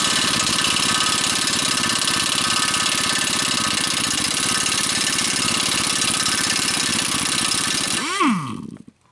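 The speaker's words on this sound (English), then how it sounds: "I'm gonna try and rattle this bottom nut loose." A loud power tool, likely an impact wrench, rattles steadily at close range while working a tie rod's bottom nut loose on a 2008–2013 Malibu, then winds down abruptly at the end.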